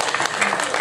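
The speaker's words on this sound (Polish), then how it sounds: "Brawa wielkie." Audience applause at a Polish folk festival, a brief burst of dense, steady clapping heard up close.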